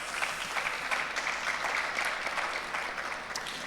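An audience at a comic convention talk in Barcelona applauding, a steady dense clapping that stays fairly faint and distant throughout.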